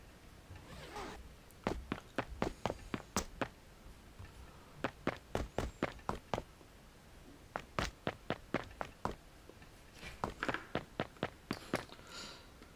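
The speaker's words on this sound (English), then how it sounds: "It's kinda eerie when the city is so silent you only hear 5 footsteps." Footsteps in Mirror's Edge tap out in quick, even runs of sharp, close steps with short pauses between bursts, over a quiet background.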